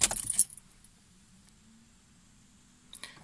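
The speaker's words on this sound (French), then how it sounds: "je mets le contact" Car keys jangle loudly and briefly at the start while the ignition of a BMW E34 525i is switched on, followed by a low steady hum and a faint metallic click near the end.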